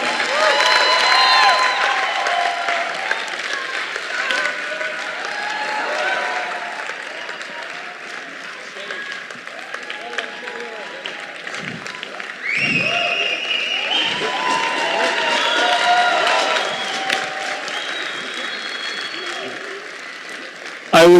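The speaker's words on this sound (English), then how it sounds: "I would like you to give them a big round of applause." Long, sustained audience applause with some cheering at a conference opening ceremony as the organizing crew comes on stage, loud and continuous, with a voice talking over the clapping.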